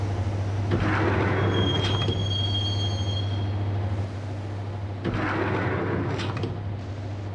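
Train rolling on rails in the Max Payne video game on PlayStation 2, a steady low rumble with a strong hum, rattling wheels and brief high metallic squeals, loud and continuous with no talk.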